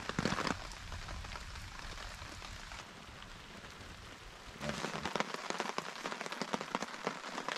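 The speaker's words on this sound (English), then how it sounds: "Morning of day 4, and it's raining." Steady rain pattering on a surface at a campsite in Magnetawan River Provincial Park, dense and continuous, growing heavier with sharper drop hits toward the end.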